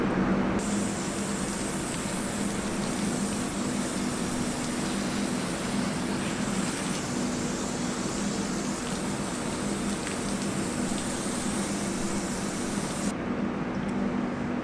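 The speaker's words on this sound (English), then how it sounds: "Now we'll just finish off the rinsing." Steady, close water spray rinses a hydro-dipped part, a continuous even hiss running without pause for the whole stretch.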